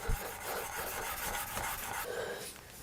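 A plane iron is honed freehand on an extra fine sharpening stone, giving close, soft rhythmic rasping strokes, several back-and-forth rubs in quick succession with no talking.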